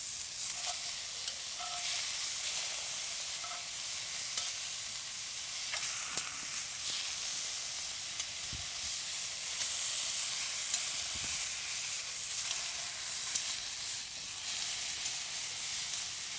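Sausage sizzling and frying in a pan over an outdoor campfire, a steady close hiss and crackle that carries on unbroken, with occasional faint stirring or turning noises.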